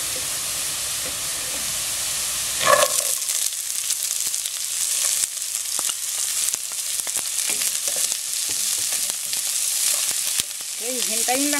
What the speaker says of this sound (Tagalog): Nagtotoast na siya. At isunod po natin itong sibuyas.